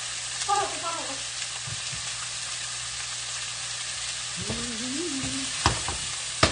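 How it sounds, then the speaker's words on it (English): Eggplant tumbles into a hot stovetop pan for ratatouille and sizzles steadily, with a few scraping stirs and clunks from the pan. "I'm dumping out my eggplant so I can dump this eggplant in here."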